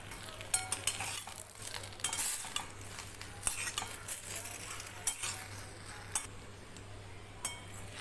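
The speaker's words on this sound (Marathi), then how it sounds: "आपण आता 1 कप हे लिंबूचे पान आहे ते छान भाजून घेणार आहोत" Dry lemon leaves being roasted and stirred in a pan for Vidarbha-style yesur masala; a spatula scrapes and clinks against the metal at irregular intervals over a faint, steady background, with no voices.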